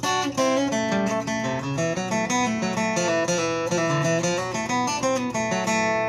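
A melodic run of plucked acoustic guitar notes, close and clear, played continuously for several seconds without talking.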